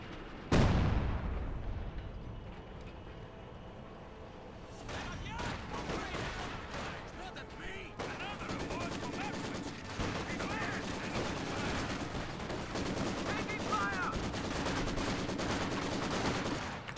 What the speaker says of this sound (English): MG backing them up, pushing back the German infantry.